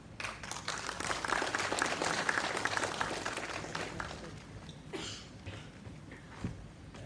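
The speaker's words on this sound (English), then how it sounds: "one round of applause for both" An audience applauds at a MuleSoft meetup in Hyderabad, a dense burst of clapping that swells and then thins out over several seconds, faint and slightly distant.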